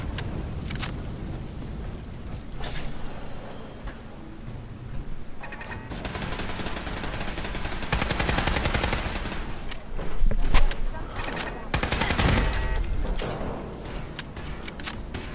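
Rapid bursts of laser turret fire in a sci-fi shooter game, dense fusillades of crackling shots rolling on and off over a busy mechanical backdrop, loud and continuous with occasional heavier blasts.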